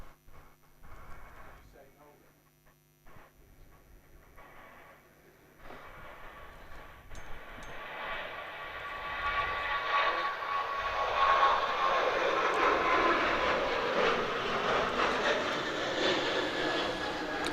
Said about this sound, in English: Spooky Ryanair rotating.